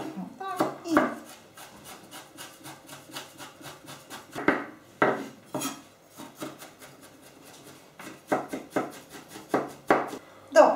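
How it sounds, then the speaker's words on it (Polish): Knife chops halva on a board in rapid, uneven bursts of close, crisp taps, with occasional louder heavy strikes and brief pauses between runs. "Przesiekam teraz chałwę, a potem połączę razem z orzeszkami."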